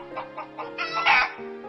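Roosters and hens cluck between the stone walls of a house in a small village in Kastamonu's Devrekani district, a few quick rhythmic clucks rising into a louder, drawn-out squawk close by.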